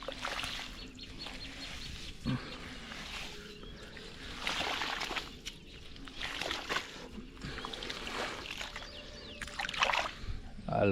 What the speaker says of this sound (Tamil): ஆல்ரெடி கட்டியிருந்த தண்ணி ஒடியாருது.